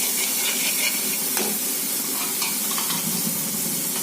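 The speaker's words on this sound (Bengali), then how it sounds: "মশলাটা কষিয়ে নিলাম" Spice masala stir-frying in a pan for an egg curry, a steady loud sizzle and hiss with occasional scraping stirs, close and continuous with no voices.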